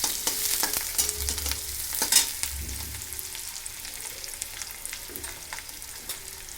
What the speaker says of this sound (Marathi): छान असा कांदा परतून घ्यायचा, कढीपत्ता, हिरवी मिरची आणि कांदा।